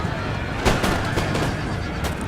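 Scattered musket volleys crackle in a Napoleon: Total War multiplayer battle at the Pyramids, a few sharp shots standing out over a dense, steady background of distant gunfire and battle noise.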